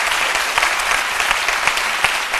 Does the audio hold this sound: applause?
yes